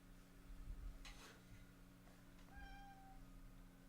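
A cat gives a single short meow close by, over a quiet room hum with a few faint taps.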